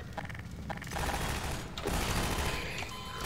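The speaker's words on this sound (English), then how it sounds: "Did I get shot" Gunfire in Half-Life 2 crackles in a dense, sustained burst of rapid shots that thickens after the first second, loud and continuous with no talking over it.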